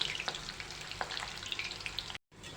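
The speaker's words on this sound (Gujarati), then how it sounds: "તો તેલ ગરમ થઈ ગયું છે હવે આપણે મૂઠિયા તેલમાં મૂકી દઈશું" Muthiya dumplings deep-fry in hot oil in a kadai for Surat-style undhiyu, a close, steady crackling sizzle with small pops that cuts out briefly near the end.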